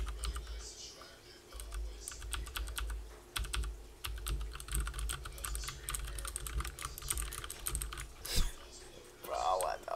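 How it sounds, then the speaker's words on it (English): Rapid, irregular keyboard key presses and clicks from a frantic player mashing buttons during an Apex Legends training session, close and steady under game sounds with occasional speech. "I'm about to press every button on this motherfucking keyboard"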